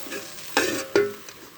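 Bitter gourd and fish roe frying together in a covered pan: a soft, steady sizzle broken by two sharp clinks of the pan or lid, close and fairly quiet.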